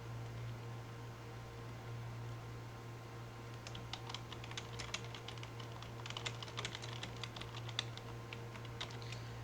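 Keys clatter on a computer keyboard as text is typed into design software, a quick irregular run of light clicks starting partway through over a constant low electrical hum.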